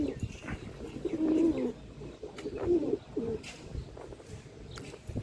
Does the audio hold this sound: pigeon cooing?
yes